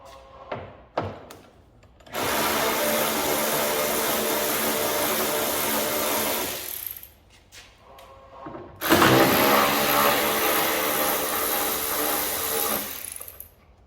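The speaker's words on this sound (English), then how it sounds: "So let's just get this rear bumper off." Rear bumper being removed from a Fiat Punto GT Turbo during a strip-down, with a few sharp knocks followed by two long, loud stretches of whirring power-tool or ratcheting noise, close up, with no talking.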